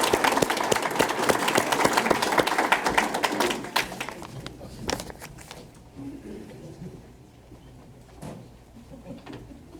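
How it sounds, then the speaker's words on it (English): Audience clapping for grant recipients at a county conservation district awards dinner, a thick burst of hand claps for about four seconds that thins into scattered claps and fades. "All right, if we can have applause for these grants."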